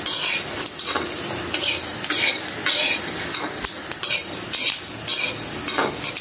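Peanuts fry in mustard oil, a soft sizzle punctuated by repeated scraping and clinking of a utensil stirring against the pan, close and without talk.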